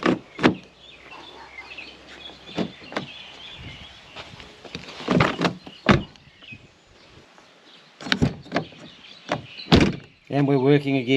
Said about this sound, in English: I think it's actually safe now to shut this door